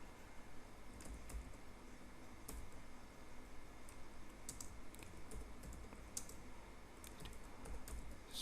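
Steady typing of code on a computer keyboard in VS Code for a Python string lesson, quiet close key clicks in irregular clusters with occasional sharper strokes over faint background noise, no speech.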